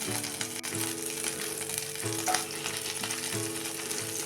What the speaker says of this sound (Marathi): लोणी असं थोडं वितळून घ्या